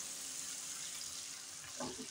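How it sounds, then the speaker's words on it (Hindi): Water pours into a tomato masala for a brinjal (eggplant) recipe, a faint, steady splashing trickle like a running tap, with a short denser splash near the end. "डालेंगे थोड़ा सा पानी"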